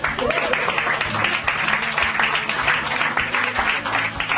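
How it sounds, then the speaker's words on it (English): An audience at a book signing applauds, a loud, sustained clatter of many hands with some voices and cheers mixed in, steady for several seconds. "Give yourselves a round of applause for making it out."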